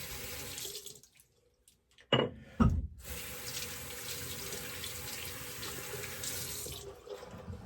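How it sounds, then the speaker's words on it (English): A running tap rinses lather off a single-edge safety razor at a sink, a broad steady rush of water after a pause and two sharp knocks against the basin, close and continuous. "All right, let's just rinse this off."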